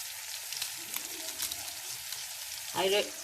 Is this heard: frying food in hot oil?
yes